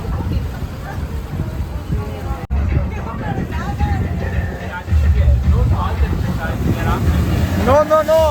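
A motorboat on the Alleppey backwaters in Kerala speeds to overtake another boat, its engine droning steadily with wind buffeting the mic, while people talk and shout over it.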